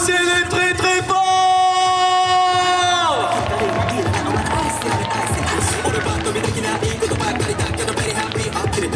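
An audience at a cosplay show claps and cheers. At first a held musical tone sits under the crowd noise, then the applause and shouting carry on loudly by themselves.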